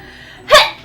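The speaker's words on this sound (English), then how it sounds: "I have to sneeze." A person sneezes once, a sharp, close, loud burst after a quiet moment, with a second breathy burst starting right at the end.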